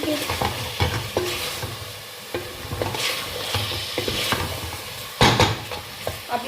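Mutton with tomatoes, green chillies and spices frying in a pot for aloo gosht, stirred with repeated scraping strokes over a steady close sizzle, with occasional louder clanks of the spoon against the metal.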